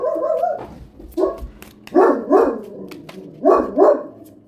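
A dog barks in short bursts, a couple of quick pairs of sharp barks close by, with brief whines between them.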